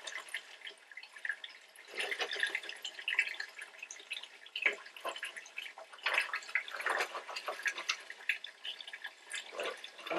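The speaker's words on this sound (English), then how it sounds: "I'm actually almost at the bottom of draining this tank" Water drains from a fish tank during a DIY cleaning, a steady close trickle with irregular splashes and drips that rise and fall throughout, with no voices.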